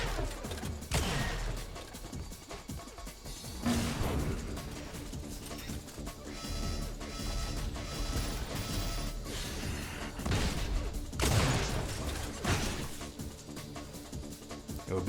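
Flak cannon primary fire in Unreal Tournament during a competitive match, several sharp crashing bursts of shrapnel spaced a few seconds apart over ongoing mechanical game noise and a mid-level background din.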